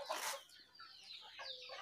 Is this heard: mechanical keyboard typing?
no